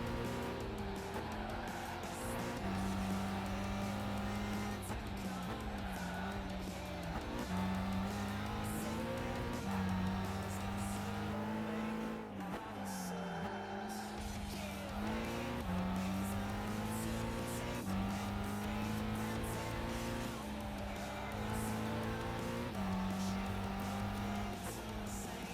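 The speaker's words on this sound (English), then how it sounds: "At least hot lapping the Nürburgring isn't too bad." Race car hot lapping the Nürburgring in Gran Turismo 5, a continuous engine drone rising and falling through gear changes, with repeated tire squeals and skids in the corners and occasional talking underneath.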